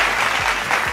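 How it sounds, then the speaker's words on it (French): Loud, dense audience applause at a singing competition final, a continuous burst of clapping from a crowd, close and filling the whole moment. "On l'applaudit."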